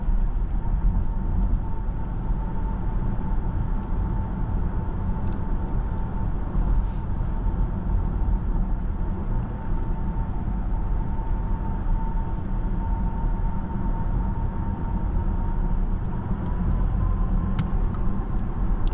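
A BMW iX M60 electric SUV cruises with its artificial drive sound switched off, leaving a steady, continuous road and tyre rumble with a faint tonal whine throughout, no voices.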